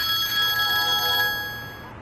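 A telephone bell ringing with a bright, sustained metallic trill, loud and near, then fading out at the end of the ring, with no one answering.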